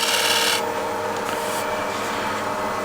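A wooden part is hand-sanded during carving work, giving steady broadband rasping strokes: a denser, louder stretch at first, then continuous lighter scrubbing, close and alone with no voices.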